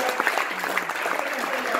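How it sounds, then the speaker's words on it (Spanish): An audience claps steadily at a Spanish-language Oriflame business presentation, a dense patter of hands, with a speaker's voice running over it. "Un aplauso para Oriflame"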